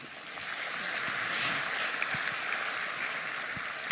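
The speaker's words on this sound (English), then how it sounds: "A round of applause again, please." Audience applause at the International Rice Congress, a steady wash of many hands clapping that carries on for several seconds at moderate volume, with no talk over it.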